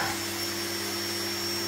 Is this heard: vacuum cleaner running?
yes